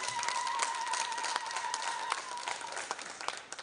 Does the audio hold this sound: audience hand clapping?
yes